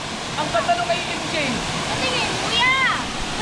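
Steady broadband rush of a waterfall at a natural falls where people are bathing, continuous throughout with voices calling and chattering over the water.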